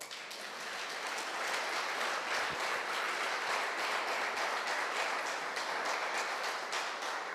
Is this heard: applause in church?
yes